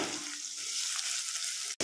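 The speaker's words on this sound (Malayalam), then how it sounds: "ശേഷം നമ്മുടെ ഉള്ളി ചേർത്ത് കൊടുക്കുക" Onions frying in a pan for a homemade masala dosa filling, after ginger and chillies. A steady, close sizzle runs throughout with no voices, then cuts off abruptly at the very end.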